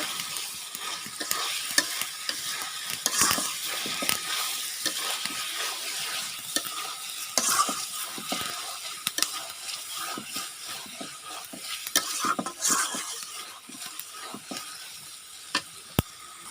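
Fish pieces frying in a pan while being stirred and turned, a continuous bright sizzle broken by frequent scraping spatula knocks, close and steady with no voices.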